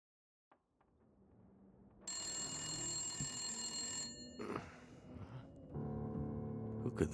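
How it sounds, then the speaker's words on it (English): An old telephone bell rings loudly in The Long Dark, the wintry survival game, in a long sustained metallic trill that pauses briefly and starts again, after a few faint ambient noises. "Who could that be? Answer the phone."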